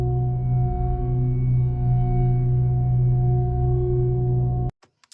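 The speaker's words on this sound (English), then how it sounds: "For this track, we have a stereo pad." Sustained stereo synth pad in a music production session, a steady droning chord with stacked tones holding at a constant level for nearly five seconds before cutting off abruptly, followed by a few faint clicks.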